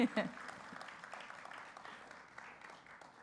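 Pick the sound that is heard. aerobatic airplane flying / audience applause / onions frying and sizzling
audience applause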